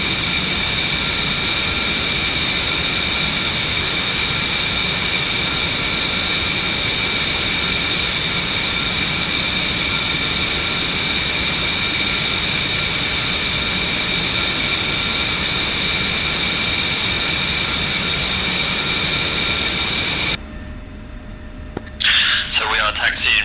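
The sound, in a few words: jet aircraft taxiing in the DCS flight simulator game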